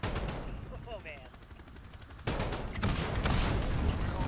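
Helicopter-mounted gunfire from a Call of Duty Modern Warfare chopper gunner: a short burst, a quieter lull with a few faint sounds, then sustained heavy rapid firing and booms growing louder through the end.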